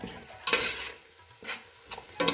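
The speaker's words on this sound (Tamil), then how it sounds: "நம்ம எண்ணெயிலேயே தயிர் சேர்த்து அது கொஞ்சம் நேரம் எண்ணெய் பிரிஞ்சு வர வரைக்கும் நம்ம வேக வச்சுக்கலாம்" Yogurt fries in hot oil for Ambur chicken biryani, giving a sizzling pan sound broken by a few sharp bursts of stirring, close and fairly loud with no talking.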